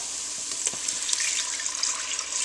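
Oyster liquor from freshly shucked oysters and canned clam juice poured into a pot of New England oyster and clam chowder, a steady trickling, splashing pour with a few small plops, close and continuous.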